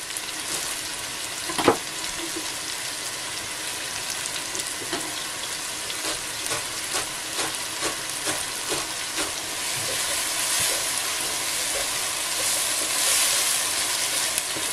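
Ingredients sauté in a pan, a continuous bright sizzle with a sharp thump early on, then scraping stirs and crackles building slightly louder toward the end, close and without voices.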